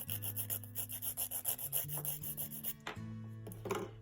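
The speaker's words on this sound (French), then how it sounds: "quand je mets hop, mon petit coup de lime" A nail file rasps across a gel nail, shaping an almond form in quick, even back-and-forth strokes, about a dozen close scrapes, over a steady background hum.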